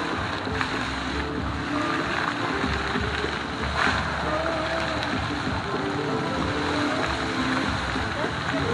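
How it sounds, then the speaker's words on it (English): Water splashing and rushing from the Wynn fountain show in Las Vegas, a steady dense wash of spray and falling water with faint crowd murmur underneath throughout. "But the sound of the water adds to the effect."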